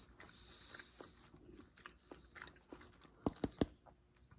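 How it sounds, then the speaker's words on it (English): Crunchy sports muesli with flax seeds, from a Norwegian arctic ration, being chewed up close: quiet soft mastication with a few sharp crunches as seeds are bitten, then a louder crunch at the end. "But the flax seeds definitely give it a crunch when you hit them."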